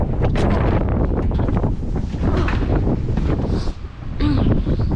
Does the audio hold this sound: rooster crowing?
no